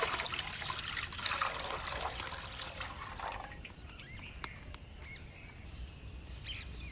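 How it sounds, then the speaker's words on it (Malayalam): Water is poured over rice for a Thalassery dum biryani, two cups for each cup of rice, making a steady, close trickling pour with a few faint drips and no talk. "1 കപ്പ് അരിക്ക് 2 കപ്പ് വെള്ളമാണ് കേട്ടോ നമ്മൾ ഒഴിച്ചു കൊടുക്കുന്നത്."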